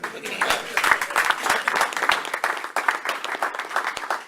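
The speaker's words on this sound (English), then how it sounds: "that is an applause line. Please give yourselves another." Members of a Rotary club audience clap, a lively patter of individual claps from a modest group, close and uneven, rising and falling in intensity throughout.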